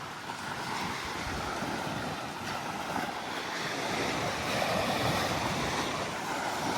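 Choppy, murky water off Gulf Breeze, Florida slaps and splashes steadily against a hull, with a constant rush of wind buffeting the microphone.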